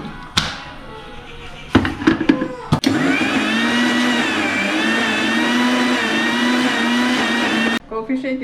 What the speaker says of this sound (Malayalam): നമുക്ക് അരയ്ക്കാം.